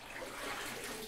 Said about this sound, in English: Let's get the bucket. Pick up some water.